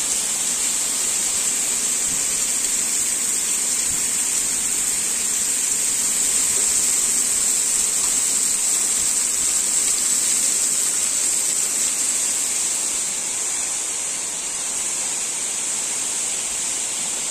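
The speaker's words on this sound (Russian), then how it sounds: "И видно, насколько выстреливает этот водопад" Large waterfall in the upper Uch-Kosh gorge, a powerful continuous roar of falling water with a steady hiss and no break throughout, close and loud.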